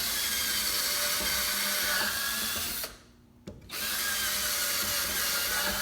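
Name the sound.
power drill drilling shank holes in wood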